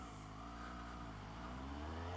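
A Suzuki GSX-S750 motorcycle engine idles steadily with a deep, even throb, close and continuous with no revving.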